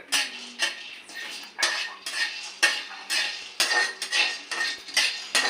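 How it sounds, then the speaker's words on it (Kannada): Peanuts dry-roast in a pan on a low flame for protein laddus, with a spatula scraping and rattling them in quick, rhythmic strokes, close up and with no voices. "ಈಗ ನಾನು ಶೇಂಗಾ ಹುರ್ಕೊಂತಿದ್ದೀನಿ"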